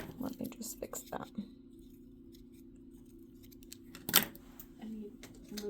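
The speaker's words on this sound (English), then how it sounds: "I need ribbon scissors for this, because they're fraying" Scissors snipping fraying ribbon on a scrapbook page, a few quiet close snips with one sharper cut near the end, under soft murmured talk.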